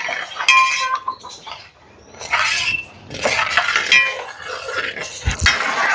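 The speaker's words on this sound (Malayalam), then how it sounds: "എന്നിട്ട് ഈ ശർക്കര പാനിയിൽ കിടന്ന് വീണ്ടും നമുക്ക് ഗോതമ്പിനെ നന്നായിട്ടൊന്ന് വരട്ടിയെടുക്കണം കേട്ടോ." Wheat is stirred in a pan of jaggery syrup with a metal spoon, giving close, irregular scraping and clinking strokes with short pauses between them.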